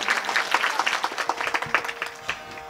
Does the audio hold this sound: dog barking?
no